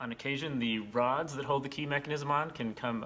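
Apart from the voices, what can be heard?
No everyday noise stands out behind the speech.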